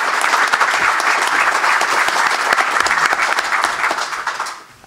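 Loud, dense audience applause at a university athletics press conference on Old Dominion joining the Sun Belt Conference, a sustained wash of many clapping hands that fades out near the end.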